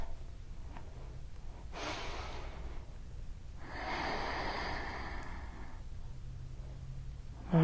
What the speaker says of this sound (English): And we'll take one more deep breath.